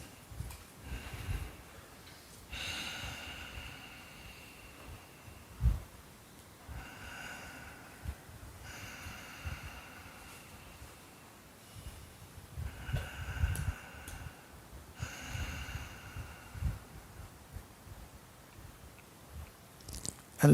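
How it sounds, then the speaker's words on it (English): Slow, deep breaths during a guided meditation on emptiness: a few long inhale-exhale cycles, each a soft airy swell with faint nasal rushes, near and quiet with no talking. "Take 3 deep breaths."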